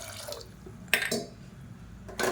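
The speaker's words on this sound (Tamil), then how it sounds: "இப்போ இன்னும் கொஞ்சம் தண்ணி சேர்த்துக்கலாம்." Water splashes and trickles in short pours into a pot of washed toor dal and moong dal, a few brief bursts separated by quiet gaps, close and moderately soft.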